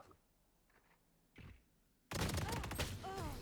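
A Bucky shotgun fires in the Valorant video game, preceded by faint game sounds and a brief thump, then a loud, dense burst of gunfire and effects fills the last second and a half.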